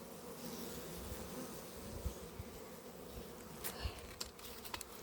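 A dense, steady hum of many honeybees buzzing close by at an open hive in late October, continuous throughout with a few sharper clicks and knocks near the end.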